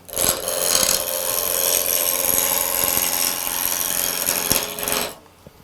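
Turning tool cutting into an amboyna burl wood blank on a lathe, a steady loud hissing scrape that lasts about five seconds and then stops abruptly.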